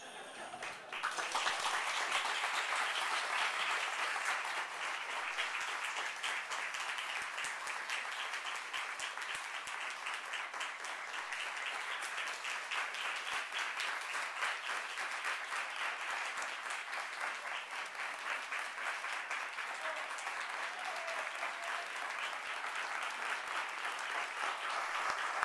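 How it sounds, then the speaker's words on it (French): Audience applauding after a performance, a long unbroken wash of many hands clapping at an even level, heard from a slight distance. "J'ai l'habitude des applaudissements, mais se faire applaudir après s'être défoncé dans une performance pendant 1 heure"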